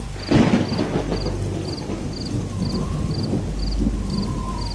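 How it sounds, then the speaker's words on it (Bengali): A sudden loud crack of thunder from lightning striking a nearby tree rumbles low near the start, then fades, while insects chirp in a steady, evenly spaced pulse throughout. "হঠাৎ আশেপাশে কোনো একটা গাছের মধ্যে কর কর করে জোরে একটা বাজ পড়ল"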